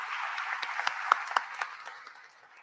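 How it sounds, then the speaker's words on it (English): An audience applauds panelists at the World Hindu Congress 2023, a soft wash of clapping in a large hall with a few sharper claps standing out, tapering away. "give them a great round of applause"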